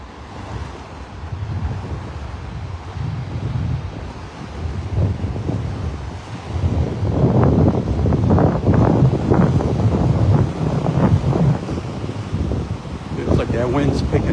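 Wind gusts on Delnor-Wiggins beach in North Naples, Florida rumble into the microphone and swell louder partway through over distant surf, while someone talks close by.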